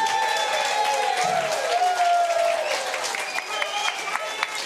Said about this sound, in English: Give yourself a huge round of applause, a perfect way to end the evening.